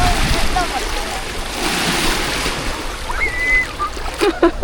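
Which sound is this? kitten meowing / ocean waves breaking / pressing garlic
ocean waves breaking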